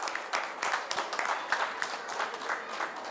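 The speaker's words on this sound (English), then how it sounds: "So a huge round of applause to all of us." A crowd applauds at a Rotary Club installation ceremony in Dharwad, giving steady, moderately loud clapping from many hands that carries on evenly through the whole stretch.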